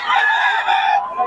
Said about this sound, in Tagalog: mga manok ni Tatay Tony.